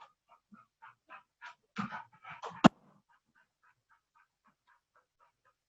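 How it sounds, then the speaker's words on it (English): A pet dog at a closed door, with a series of short scratching and pawing bursts followed by a cluster of louder knocks and thumps against the door, then fainter intermittent scratches in a quiet room. "So my dog is trying to get into the room. She's scratching and scratching and scratching."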